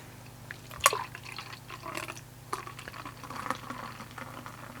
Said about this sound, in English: Let's pour it in the glass.